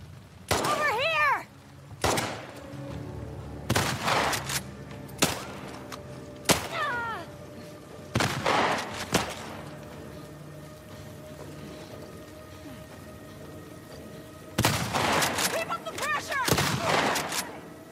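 Bursts of gunfire in the video game No Return: several loud rapid volleys and single shots separated by short pauses, with quieter thuds between.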